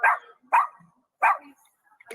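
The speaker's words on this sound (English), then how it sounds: "It's a dog. You can't stop the dog from barking." A dog gives four short, sharp barks at uneven intervals, fairly close and moderately loud.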